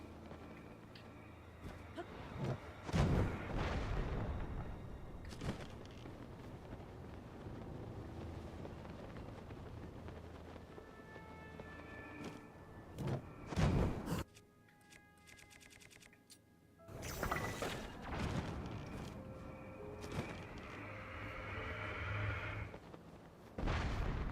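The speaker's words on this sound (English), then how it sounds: "we just have cannons on the outside ready to shoot us at all times" Cannons fire in Zelda: Tears of the Kingdom as sharp, broadband booms recur at irregular intervals over a continuous windy, rushing game backdrop.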